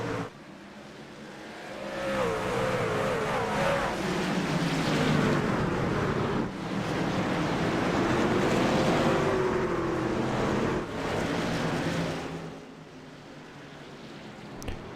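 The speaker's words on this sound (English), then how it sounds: "let you hear these trucks race at virtual Martinsville" Pulling trucks racing at virtual Martinsville in a racing video game, engines swelling and fading as the pack passes in waves, a rising and falling whine over a loud sustained roar.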